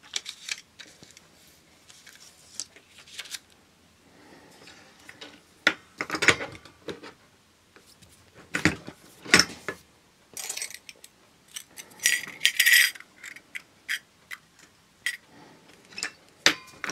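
A button making machine pressing out buttons, a series of sharp mechanical clunks and clicks in irregular bursts, close and fairly loud, with quiet gaps between presses.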